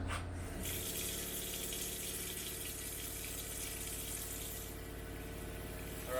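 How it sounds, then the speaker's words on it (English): Water runs steadily from a camper kitchen sink faucet during de-winterizing, a constant gushing hiss that continues without break, close by, with no talk over it. "at the kitchen sink, we're going to run the hot and the cold side until we see clear water"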